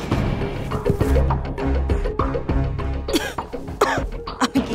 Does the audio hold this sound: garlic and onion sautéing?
no